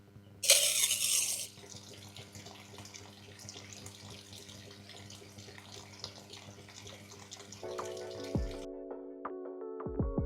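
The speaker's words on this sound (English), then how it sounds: "you're going to want to take your hose and you're going to want to squirt directly into this" A garden hose squirts water into a swimming pool overflow drain line, a steady hissing, splashing flow after a brief louder burst, running continuously before a tonal hum takes over near the end.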